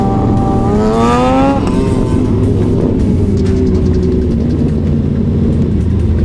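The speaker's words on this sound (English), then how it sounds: "This guy in the pickup truck is getting a little aggressive." A pickup truck engine at a Florida bike night street gathering revs hard and loud, its pitch sweeping upward and then falling back to a rumbling idle amid a steady crowd and engine din.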